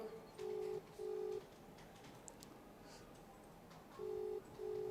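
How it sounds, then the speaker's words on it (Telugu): A phone call's ringback tone repeats in paired beeps, two quick pulses, a pause, then two more, faint and steady with no talk over it. "ఇగో ఇంకా రింగ్ అవుతూనే ఉంది"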